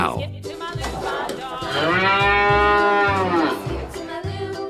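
A cow moos in one long, close, drawn-out call that swells in the middle and then fades, with faint rhythmic background sound underneath.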